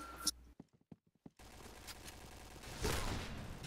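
A burst of gunfire from the online shooter Point Blank: a rapid string of sharp, brief shots, followed by a sustained loud rush of in-game noise.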